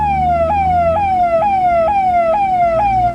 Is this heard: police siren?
yes